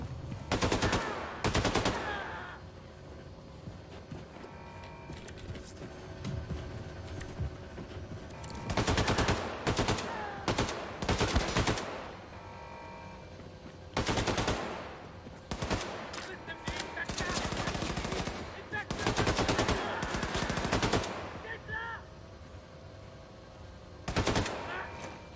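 Bursts of video game gunfire from Wolfenstein: Colossus, loud automatic volleys that come in repeated clusters separated by quieter gaps of low ambience.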